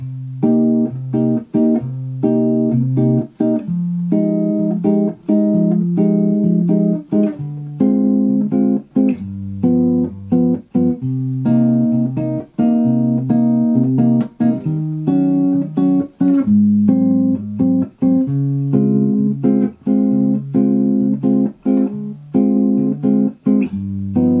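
Clean guitar strums chords in a syncopated bossa nova rhythm over a jazz standard, steady and close, with short rests between chord changes throughout.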